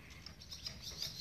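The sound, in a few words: birds chirping on island, seagulls or swallows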